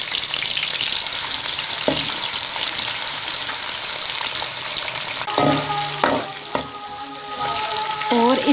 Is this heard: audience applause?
no